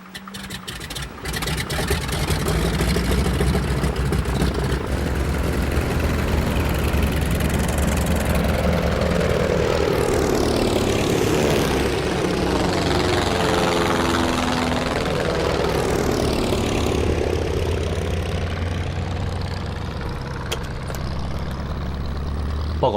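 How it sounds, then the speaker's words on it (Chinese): Martin bomber aircraft engines at takeoff in a war film about the Battle of Taierzhuang, a loud steady propeller drone that swells as the plane rolls and climbs, with the pitch sweeping past, no talk. "报告秘书长，马丁机组已经起飞。"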